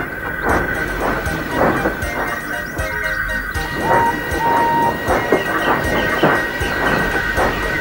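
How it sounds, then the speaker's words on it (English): A steam engine pulls an express train, with regular rhythmic chuffs and hissing over a rumbling rail background and steady tonal ringing, loud and close. "Then it was Henry's turn to take the express"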